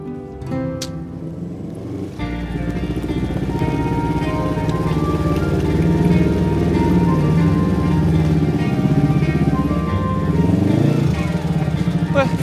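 A new motorcycle engine runs steadily and fairly loud from about two seconds on, with a constant mid-low hum and harmonic drone and no clear speech over it.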